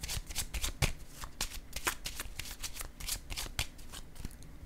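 Tarot cards being shuffled in a steady stream of crisp riffles and soft slaps, close and fairly quiet, with no talk.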